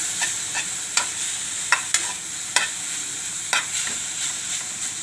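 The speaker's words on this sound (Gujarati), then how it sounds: "અને આપણે થોડુંક આને હલાવી લેશું" A spoon stirs grated papaya sambharo in a pan on a stove just switched off, giving a few sharp scraping clacks against a soft lingering sizzle, close and unaccompanied by speech.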